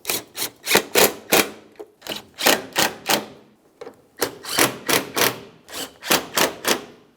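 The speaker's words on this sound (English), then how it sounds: "Tighten up each of the bolts." Ratchet clicks tightening the headlight mounting bolts on a 2006-2012 Ford Fusion: quick bursts of sharp, close clicking strokes in four groups separated by brief pauses, with no talk.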